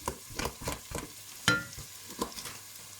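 Ground meat for spaghetti frying in a pan, a soft steady sizzle broken by repeated stirring scrapes and clacks, close up with no talking.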